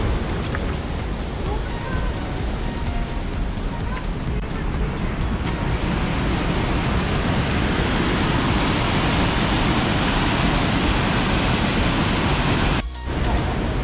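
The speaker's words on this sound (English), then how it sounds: "you'll see the top of the waterfall, and it's roaring pretty good" Glen Ellis Falls in spring roars as a steady, loud, continuous wash of falling water close by, with no break across the stretch.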